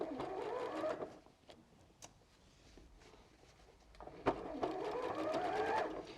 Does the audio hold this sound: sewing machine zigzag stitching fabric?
yes